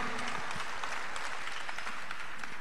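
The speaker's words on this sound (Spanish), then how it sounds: "Aplausos para Achille." Steady applause from an audience greeting a poetic rap performer inside a circus tent at a European gathering, a continuous dense clapping texture with faint crowd murmur underneath.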